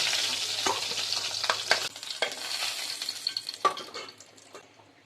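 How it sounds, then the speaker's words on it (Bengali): Rohu fish pieces fry in hot oil for a Bengali fish, potato and cauliflower curry, with a loud sizzle broken by clinks and scrapes as the pieces are lifted out of the pan, fading toward the end. "মাছগুলো আমার ভেজে নেওয়া হয়ে গেছে এবারে তুলে নেব"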